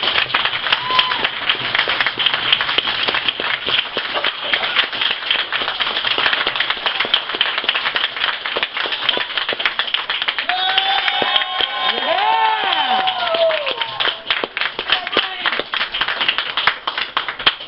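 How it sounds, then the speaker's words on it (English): Audience applause for performers at a show, a loud, sustained wash of many hands clapping close by for the whole stretch, with a brief voice or cheer rising through it partway along. "Could we just give these guys a round of applause for that?"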